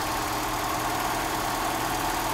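Mercedes-Benz W123 230E engine idling during an idle mixture adjustment, a steady, even mid-pitched hum with a faint knocking texture, close and constant throughout with no voices.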